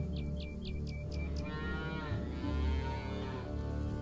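Cattle in the Farmer's Dynasty farming game let out a long, low moo that swells and fades, heard near and loud over steady in-game ambience, with a few short high chirps near the start.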